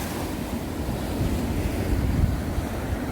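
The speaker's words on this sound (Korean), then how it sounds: "파도는 조금의 높은 편이네요." Fairly high ocean waves wash against the rocky shore at Yeonggeumjeong at dawn, a continuous loud surging roar with wind noise and no voices.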